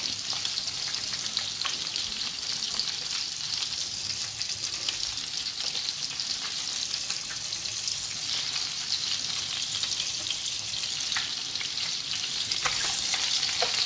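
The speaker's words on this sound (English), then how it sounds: "We load the last remaining meatballs into the sauce." Meatballs go into a hot sauce in a frying pan, and a loud, continuous sizzle and crackle of frying carries on steadily throughout.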